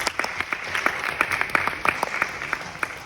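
Applause from a small audience after a question is answered, a run of distinct close claps at an uneven rhythm with a light crowd murmur underneath.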